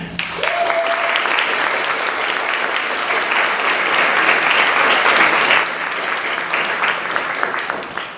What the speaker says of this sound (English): Let's give one more round of applause to our Japanese speaker